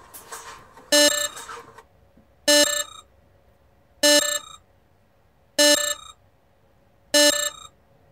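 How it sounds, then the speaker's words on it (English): A truck's low air pressure warning buzzer sounds in a tractor-trailer cab as the service brake is fanned down and air pressure drops to around 60 psi: five loud, evenly spaced electronic beeps about one and a half seconds apart, quiet cab noise between, no talk. "Warning signal, light and buzzer must come on around 60 psi."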